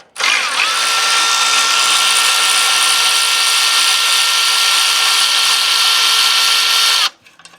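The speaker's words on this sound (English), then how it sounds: "Now we're going to loosen the clamp back up." Power tool loosening an exhaust clamp during a downpipe install on a Mercedes C63S, one continuous high-pitched whir held steadily for about seven seconds and then stopping abruptly, close and loud.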